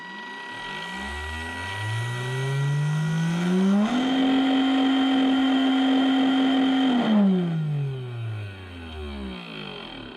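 A Tamiya stock silver can electric motor, brand new, running on a 2S LiPo: a high whine ramps up, holds a steady pitch at full speed for a few seconds, then winds down again, loud and close with no talk.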